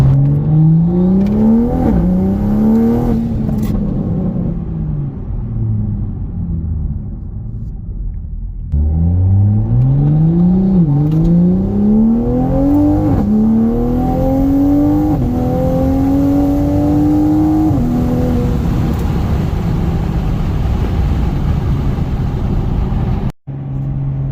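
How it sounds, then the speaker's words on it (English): A new Toyota Supra roars through repeated hard pulls, engine note climbing in long sweeps between gear shifts, with loud turbo whoosh and fluttering blow-off valve chatter close by. "Turbo on this thing is so loud, and it has such an awesome blow-off valve flutter."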